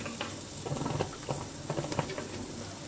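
A pot of chickpea and green lentil noodle soup is stirred, giving soft, quiet patter and light clinks over a faint simmering sizzle.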